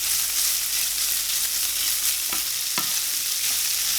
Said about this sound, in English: just caramelize the onion and the bacon while the Swedes are cooking